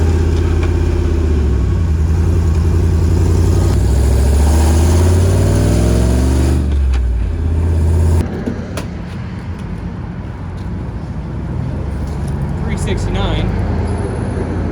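Hellcat-engined Jeep Wrangler with a new exhaust, its loud engine note rising and falling through revs with a supercharger whine riding on top, then settling into a steadier driving drone with clicks and rattles.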